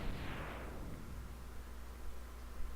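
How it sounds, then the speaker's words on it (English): A boss explosion from the SNES game Mega Man X bursts out as a loud, hissing rush of noise that starts bright and sharp, then thins into a lower, steady rumbling roar. "Let's witness one of those beautiful SNES era explosions again."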